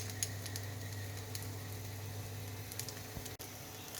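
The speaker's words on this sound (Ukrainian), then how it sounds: "оскільки куряча печінка смажиться достатньо швидко" Steady sizzling and light crackling of chicken liver patties frying in a pan, continuous and close, with a low background hum throughout.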